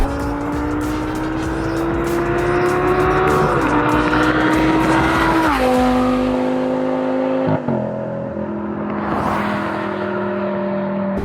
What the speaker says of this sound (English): And you hear the exhaust note a lot crazier